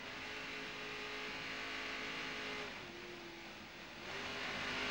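A 2001 Aron jet boat fitted with a borrowed spare racing engine runs flat out, a steady mid-distance roar with a sustained tone that dips briefly and then climbs again, with no voices.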